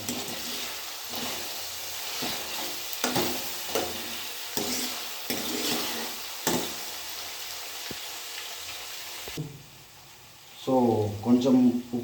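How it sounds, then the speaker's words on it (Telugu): Onions frying in oil in a pan for Rayalaseema egg curry, a soft sizzle with occasional stirring scrapes, heard under someone talking, then a brief louder clatter near the end. "సో ఇలా ఎర్ర ఎర్రగా అయ్యేంతవరకు అనండి ఇలా నూనెలో"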